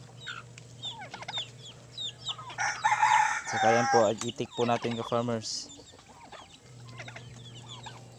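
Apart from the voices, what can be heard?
chickens and turkeys clucking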